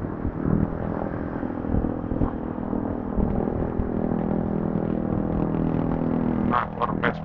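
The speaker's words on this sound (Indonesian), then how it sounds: "Nah, suara Vespa ini apakah bisa dengan jelas?" Vespa scooter engine heard from inside a rider's helmet, a steady continuous drone with road and wind rumble throughout, rising into a few brief louder bursts near the end.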